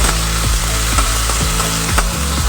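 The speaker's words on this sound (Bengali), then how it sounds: "লবণ খুব সামান্য পরিমাণে দেব হলুদ খুব সামান্য দিয়ে ভালো করে একটু আমি ভেজে নেব" Sago frying in a pan with salt and turmeric: a steady loud sizzle with a spatula scraping and stirring in regular strokes roughly every half second, close up, no voices.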